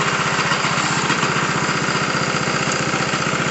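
A Honda GX160 engine on a plate compactor runs steadily close by, a loud, even, rapid putter with no pauses.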